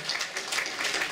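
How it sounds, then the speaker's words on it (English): A brief burst of audience applause for panelists at a gaming player summit, a short patch of quick overlapping claps at moderate volume. "A round of applause for our panelists."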